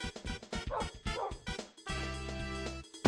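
A dog in the Minecraft video game on Wii U barks and yips in a quick series of short calls, followed by a brief tonal game sound, fairly faint overall.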